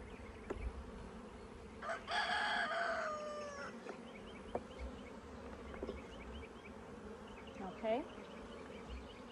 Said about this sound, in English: I'm gonna be very careful not to roll the bees. They don't like it.